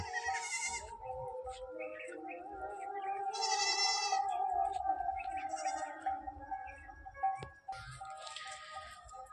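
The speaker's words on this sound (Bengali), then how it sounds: "ছাগলের বাচ্চা দেখো।" Goat kids bleating close by in a rural field, with several wavering, drawn-out cries and a quieter background of other faint calls.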